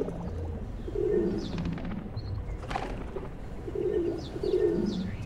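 Pigeons coo on an empty river beach, with low, repeated throaty calls close by and a few soft flutters and chirps, and no voices.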